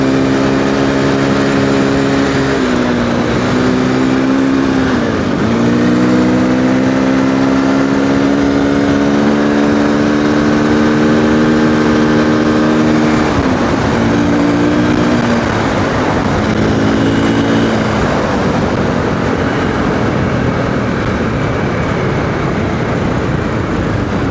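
A Triumph TF 450-E single-cylinder motorcycle engine drones loudly and close while riding off-road over rocks in second gear, its pitch rising and dipping repeatedly with throttle changes.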